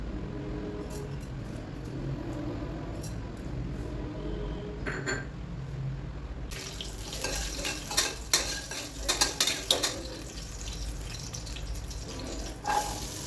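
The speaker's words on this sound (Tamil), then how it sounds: "கறிவேப்பிலை இதெல்லாம் போட்டு நல்லா தாளிச்சுக்கலாம்" Spices with curry leaves and bay leaf crackle and sizzle in hot oil for a mutton gravy while a spoon stirs and scrapes the pan, with the frying getting louder midway.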